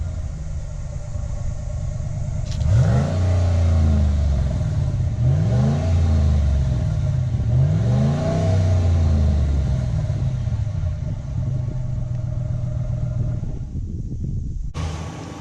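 A 2017 Dodge Ram 1500 pickup with a 5.7 Hemi V8 on its stock exhaust revs repeatedly from idle, several rising and falling engine blips close by, with the idle rumble continuing between them before it cuts off.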